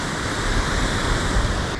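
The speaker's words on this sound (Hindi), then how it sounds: "और ये पानी मेरे ख्याल से लेक में ही जा रहा है।" Water rushes steadily toward Madhuri Lake in Arunachal Pradesh, a loud, continuous broadband wash with no pauses and no voices.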